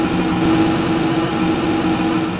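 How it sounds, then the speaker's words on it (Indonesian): Steady, continuous engine drone of a train in a railway video game, a constant low hum with a sustained tone and no track sounds, loud and alone throughout. "Cuma ada suara mesin."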